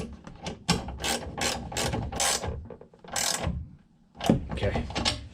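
A ratchet wrench with an 11mm socket tightens a locking nut on a tractor cab fitting, giving several bursts of rapid clicking close by, separated by short pauses, with no talk over it.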